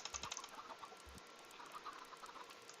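Minecraft chickens cluck softly in short scattered bursts, faint and close, with light clicking from a keyboard in the background.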